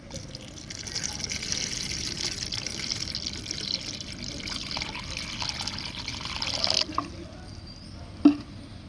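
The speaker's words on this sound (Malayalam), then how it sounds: "ഇതിലേക്ക് നമ്മൾ കുറച്ച് വെള്ളം ഒഴിച്ചു കൊടുക്കുകയാണ്" Water pours steadily onto cut aloe vera pieces in a container for several seconds, a continuous splashing trickle, then stops, followed by a single faint clink.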